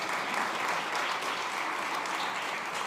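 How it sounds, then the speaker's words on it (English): Steady, dense applause from an audience at the SXSW All Things Food Summit, honouring the production crew with continuous clapping throughout. "Give them a round of applause if you can."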